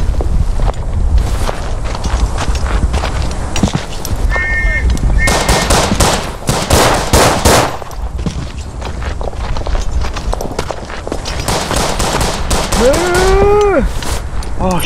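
Rapid machine gun bursts and scattered gunfire crackle loudly through a World War I trench battle in the game Verdun, dense and close, with whistling shells and other battlefield noise layered in.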